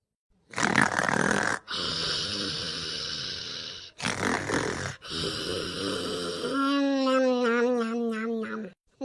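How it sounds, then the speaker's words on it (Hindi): A person snores while asleep on a hot summer night, several long, rough, rasping breaths with short pauses between them, loud and close, ending in a rattling, voiced snort. "अब ये देखत कैसन खर्राटा मारत है"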